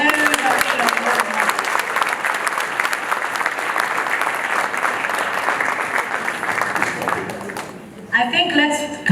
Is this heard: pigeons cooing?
no